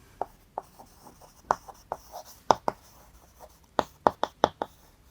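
Hand writing of notes on paper, quiet close scratches and taps in irregular bursts, pen strokes clicking sharply against the page.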